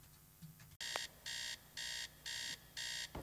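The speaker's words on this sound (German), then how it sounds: "So, der Wecker klingelt." An in-game alarm clock in the Teardown video game rings in five evenly spaced bursts of loud, bright electronic beeping, each lasting about half a second with short gaps, after a brief sharp click.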